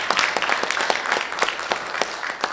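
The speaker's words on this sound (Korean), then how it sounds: "자, 박수로 모시겠습니다." Applause greets a guest introduced at a Korean national founding anniversary ceremony, a dense stretch of many hands clapping in quick irregular patter, moderately loud and unbroken for the whole moment.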